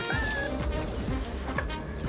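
Swarming bees buzz in the Ultimate Chicken Horse video game, a faint, continuous wavering hum with no talk over it.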